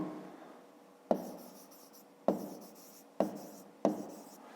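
A digit being written by hand in a math exercise, heard as four firm, evenly spaced strokes, each opening with a crisp tap and trailing off in a scratchy rub, close and clear with no voices.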